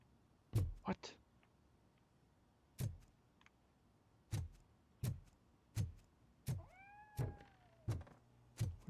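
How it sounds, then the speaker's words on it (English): A cat meows in the RoboCop Rogue City video game, a brief rising-and-falling meow or two late in the stretch, set among heavy, evenly spaced thudding footsteps. "I just heard another cat."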